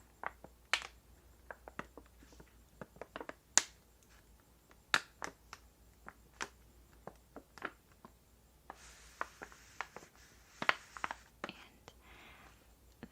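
Thick plastic gummies bag holding mushroom gummies, crinkled close up in a quiet room, giving sharp irregular crackles and snaps in uneven bursts, with a denser stretch of rustling near the end.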